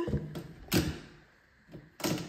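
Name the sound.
door hinge being changed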